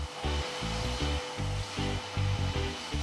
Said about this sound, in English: can you show me how the Hoover works then?